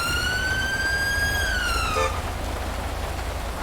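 Police car siren in GTA 5 with a British police mod, a loud close wailing tone that holds and bends slightly before cutting off abruptly partway through, leaving steady rain-like background noise.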